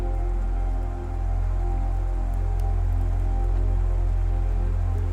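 Rain falls through a spring storm at an Alberta campsite, a loud, steady wash with constant patter and a low background hum throughout, and no voices.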